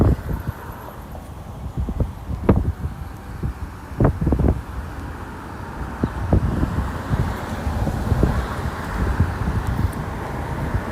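Wind buffets the microphone outdoors in a steady low rumble with gusty bursts throughout, no talk.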